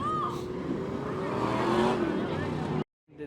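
Stock cars roaring around a Porterville oval during a Veterans Day race, a loud sustained engine drone with the number 4 car heavy on the throttle, under an announcer's commentary, cutting off abruptly near the end.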